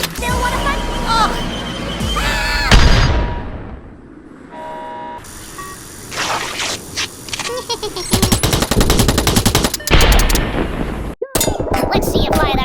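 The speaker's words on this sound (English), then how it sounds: "Let's see you fire that rifle, Private." Rapid bursts of Worms Armageddon rifle and machine-gun fire, loud and close, break out in several volleys with clanging impacts, set against game music and sound effects in a stick-figure animation.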